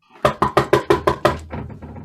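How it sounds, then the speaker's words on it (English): A door is knocked rapidly, about seven sharp, evenly spaced raps close by, then a softer run of quicker taps trailing off, with no voices. "the home of Mary Wesley, who is startled by a rapid knocking at her door"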